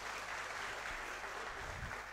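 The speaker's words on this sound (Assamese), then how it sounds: "হাত চাপৰি দিব সকলোৱে।" Brief, faint patter of audience clapping at a forest guard appointment letter ceremony, a short steady burst heard from some distance.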